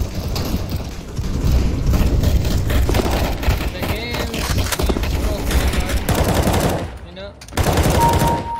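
Rapid gunfire in CS:GO, a dense stream of sharp close shots hammering almost continuously, with brief gaps and a short break near the end, amid game effects.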